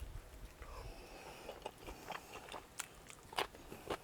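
Crunchy, crispy fried chicken cooked over fire being bitten and chewed close up, a series of sharp crackling crunches at irregular intervals over a low background rumble.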